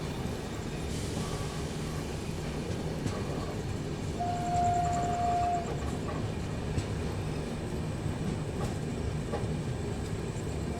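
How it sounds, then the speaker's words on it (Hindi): A Garib Rath Express (12211) rolls into Gonda Junction station with a steady, close, loud rumble. A brief thin tonal whine rises partway through, and no one speaks. "गाइस हम लोग अप्रोच कर रहे हैं गोंडा जंक्शन रेलवे स्टेशन, जहाँ पे हमारी ट्रेन का है 10 मिनट का हॉल्ट।"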